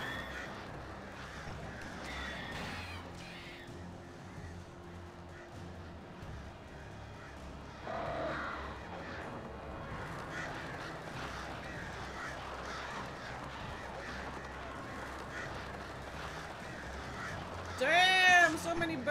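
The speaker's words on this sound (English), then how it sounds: "Damn, so many birds." Crows cawing in the horror video game Alan Wake Remastered, a flock of harsh caws spread through a dark ambient bed with rustling, growing denser and louder near the end.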